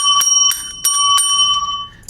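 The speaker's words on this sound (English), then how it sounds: "if they do, you will use this bell." A small hand bell in a classroom rings in four quick, bright metallic strikes about a third of a second apart, close and clear with no talk.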